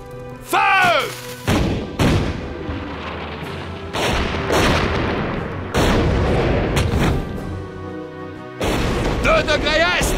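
Several heavy cannon blasts boom one after another in a battle, each a loud deep thud with a rumbling tail, mixed with shouting and whistling sounds.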